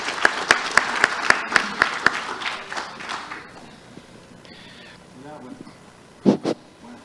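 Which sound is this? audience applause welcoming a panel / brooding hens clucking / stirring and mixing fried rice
audience applause welcoming a panel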